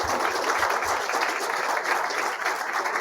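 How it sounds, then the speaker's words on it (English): An entrepreneurship event audience applauds its panelists and moderators with a steady, full round of clapping from a large crowd, continuous and fairly loud with no voices over it. "Let's give it a round of applause for all of them."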